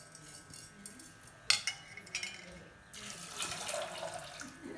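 Water from a tap runs into a small pressure cooker in a kitchen, a faint, uneven splashing with a clink of metal, the flow growing steadier toward the end.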